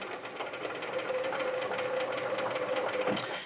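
Sewing machine running steadily as it stitches an heirloom pillowcase during restoration, a continuous close whirring motor hum for a few seconds with no talk.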